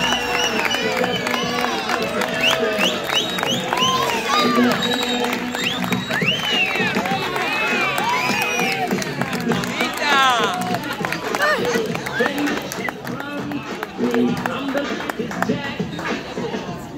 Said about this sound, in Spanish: ¡Carlita de la Quema, un aplauso!